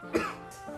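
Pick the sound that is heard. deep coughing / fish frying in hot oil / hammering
deep coughing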